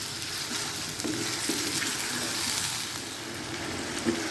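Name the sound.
chicken frying on high flame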